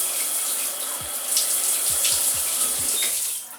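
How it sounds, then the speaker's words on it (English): Water runs steadily from a tap as it is applied to thick natural hair already coated with styling product, a continuous hissing flow with a few soft low splashes, close and alone. "I'm gonna put a little bit of water on my hair and smooth through my hair again."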